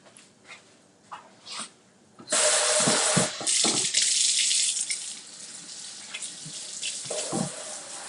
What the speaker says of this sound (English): All right, I'm going to wash my hands.